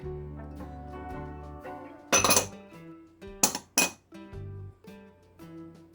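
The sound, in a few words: mixing sugar and cornstarch in a bowl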